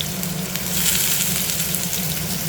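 Onions and green chillies frying in hot oil in a pan, a steady, dense sizzle that holds at an even level throughout, close and fairly loud, with no talking.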